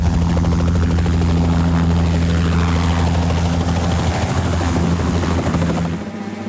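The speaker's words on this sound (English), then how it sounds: "The vehicle hiding is helicopter." A helicopter's rotor and engine drone steadily and loudly for about six seconds, a constant throbbing whir that drops off sharply at the very end, with no voices.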